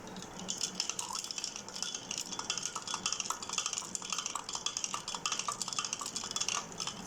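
Spoon stirring flavoured milk in a glass or pot after a couple of kewra drops go in, a continuous rapid clinking and rattling of metal against the vessel, fairly close and steady.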